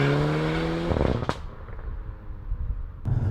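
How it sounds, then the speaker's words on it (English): A 2016 Mercedes A250 4MATIC with a 2-litre turbo petrol engine revs and rasps from inside the cabin, its tone dropping as it lets off, then a sharp pop and crackle before it picks up again. "You might hear a lot more of the exhaust today as opposed to normal"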